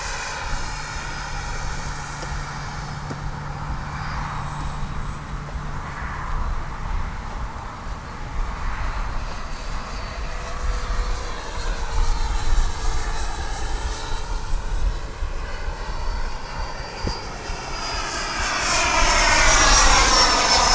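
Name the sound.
Freewing F-86 RC jet flying with engine roaring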